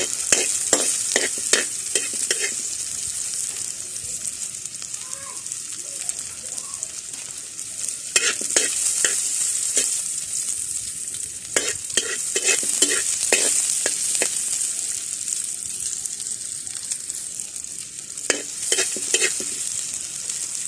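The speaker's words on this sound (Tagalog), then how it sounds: "bali gigisa tayo ng luya. Tapos sunod natin yung sibuyas." Ginger and onion sizzle loudly in a hot pan for ginataang alimasag, a steady bright frying hiss broken by repeated scraping strokes of a spatula in bursts.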